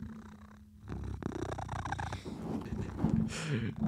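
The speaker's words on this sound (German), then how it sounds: "Ich glaube, man hört ihn noch schnurren." A cat purrs softly and steadily close by, with some light rustling and shuffling around it.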